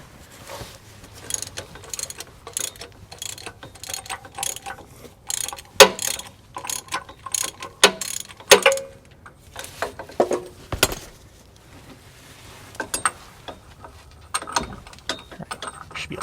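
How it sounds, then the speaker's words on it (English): Ratchet turning a bolt out on a GM K truck 6.5L diesel engine, a steady run of rapid clicking pawl bursts in irregular spells, close and fairly loud, with brief pauses between turns and no talk. "we'll switch over to a ratchet. And we'll get this bolt the rest of the way out."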